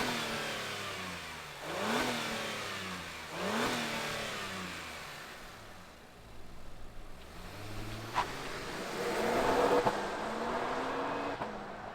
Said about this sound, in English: let's fire up this MDX Type S and hear what it sounds like.